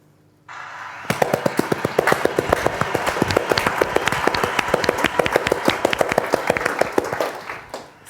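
A button-triggered applause sound effect erupts after a short lead-in: a loud, dense burst of crackling clapping that holds steady for about six seconds and then cuts off, with no voices.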